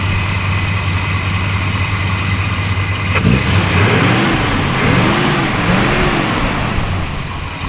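A truck's V8 engine idles steadily and close, a continuous low rumble; after about three seconds a sharp click breaks in and the idle grows slightly rougher and louder with a wavering pulse.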